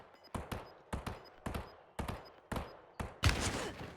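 Bursts of gunfire in a Warzone match, short volleys repeating about every half second with a louder, denser burst near the end, fairly close.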